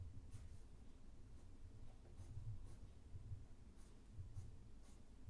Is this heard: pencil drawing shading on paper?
yes